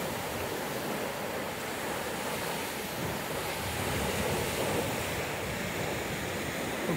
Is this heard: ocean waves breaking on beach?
yes